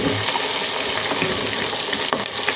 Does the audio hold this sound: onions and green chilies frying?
yes